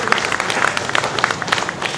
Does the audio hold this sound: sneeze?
no